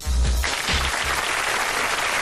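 Applause heard over a radio phone call, a brief burst of clapping with low muffled sounds at the start, thin and compressed like a phone line.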